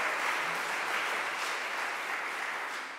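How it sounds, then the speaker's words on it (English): Steady, dense applause from a concert audience at an annual Handel aria competition, a continuous wash of clapping holding level for a few seconds before easing slightly. "let's have a round of applause for that"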